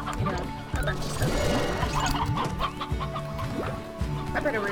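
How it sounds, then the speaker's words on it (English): Rooster clucking from the game Slime Rancher, repeated clucks and calls with rising swoops over a steady background, while a person talks throughout. "I bet a rooster spawned behind me."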